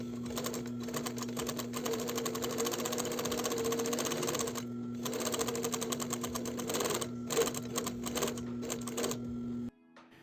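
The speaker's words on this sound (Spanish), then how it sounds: "continuamos cosiendo el labio del ojal" Pfaff 260 sewing machine stitching the side of a buttonhole in zigzag, a fast, even mechanical chatter running steadily for several seconds with a couple of brief pauses before stopping abruptly.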